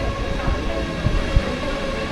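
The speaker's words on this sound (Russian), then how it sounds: "Мы садимся в поезд и уезжаем." Steady low rumble of a train in motion, with a couple of soft knocks from the carriage and no talking.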